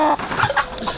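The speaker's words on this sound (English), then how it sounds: "So, Hen, how's adoption day been for you?" A hen clucks on adoption day during a chicken re-homing collection, giving a quick run of short, close, chattering clucks over about a second with no voices over them.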